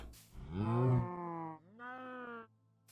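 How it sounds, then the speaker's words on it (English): Cows in a farm-building video game give two drawn-out moos in quick succession, the first deeper and louder, the second shorter and higher, clear and close with nothing else around them. "I do hear baby cows in there"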